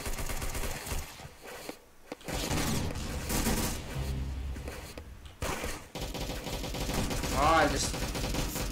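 Rapid gunfire in the online shooter Arsenal crackles nearly nonstop in loud sustained bursts with brief gaps, while someone talks over it.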